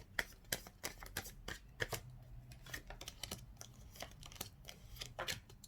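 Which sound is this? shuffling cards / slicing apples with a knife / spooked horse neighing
shuffling cards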